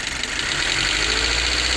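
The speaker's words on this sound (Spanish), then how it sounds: "Ese es un ruido perfectamente normal del motor, de los tacos, de los balancines." A 1.5-litre engine in a 2017–2022 Honda CR-V runs with normal valvetrain ticking from the tappets and rocker arms, a steady close mechanical hum with a fine rapid clatter layered on top.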